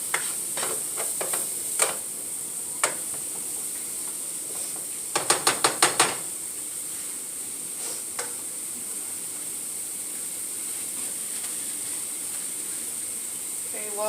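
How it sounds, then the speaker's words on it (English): Mushrooms sauté in a pan with a soft, even sizzle underneath. Sharp utensil clicks and taps come near the start, including a quick burst of five rapid ticks. "while those are sauteing"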